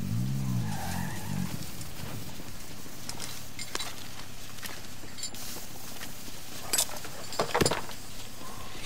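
Car driven and skidding in Warzone, engine rumble with tire skids and squeals, occasional sharp impacts and clatter, fairly close and steady throughout, with a brief voice at the start.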